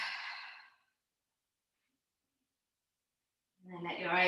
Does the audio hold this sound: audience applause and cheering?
no